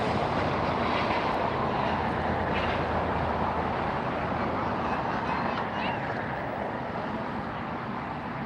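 A jet airliner passes at LAX airport, a steady, broad roar that stays loud throughout and fades only slightly toward the end.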